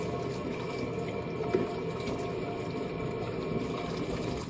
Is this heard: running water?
yes